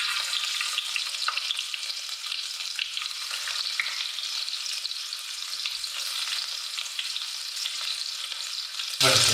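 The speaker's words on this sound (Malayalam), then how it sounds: "ആദ്യം കുറച്ച് ചെറിയ ഉള്ളി അരിഞ്ഞെടുത്ത്" Chopped small onions fry in hot coconut oil in a pan, a steady, loud, close hiss of sizzling that continues without letup, with a burst of louder crackle at the very end.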